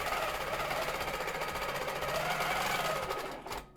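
A longarm quilting sewing machine runs steadily, stitching rows of wave patterns with a fast, even mechanical chatter that stops abruptly near the end.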